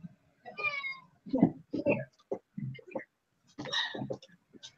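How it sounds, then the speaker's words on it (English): Two house cats meow in turn, with drawn-out, rising cries near the microphone, mixed with people talking nearby. "now we got both of our cats going"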